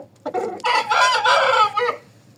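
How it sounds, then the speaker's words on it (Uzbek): A rooster crows once, loud and close: a short clucking lead-in followed by a drawn-out, strained crow lasting about a second and a half. "Mana xoroz bor. Bu ham o'ta qattiq xorozlardan bittasi."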